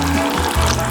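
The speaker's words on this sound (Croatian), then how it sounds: "A sada uključujem blender." An electric kitchen blender blitzes tomatoes, rocket and spices into a sauce, its steady, loud motor whir and churning hiss lasting a single second with no talk.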